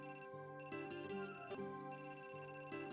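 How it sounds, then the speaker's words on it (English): A phone ringtone plays in the visual novel Amnesia: Memories, a steady looping electronic melody of bright repeating tones, fairly quiet and heard alone. "Oh right, your phone was ringing, wasn't it? Is it still ringing?"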